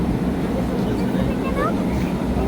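Steady low engine drone fills a Biman Bangladesh airplane cabin during pushback at Dhaka, a constant dense rumble with faint voices murmuring underneath.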